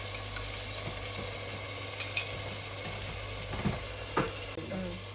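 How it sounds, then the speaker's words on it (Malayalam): Ginger garlic paste and crushed chilli fry in a pan for mutton curry, a steady close sizzle under a low hum with occasional stirring scrapes. "നമ്മളിനി ഇതിലോട്ട് ഇഞ്ചി വെളുത്തുള്ളി പേസ്റ്റും മുളക് ചതച്ചതും ഇട്ട് കൊടുക്കാൻ പോവാണ്"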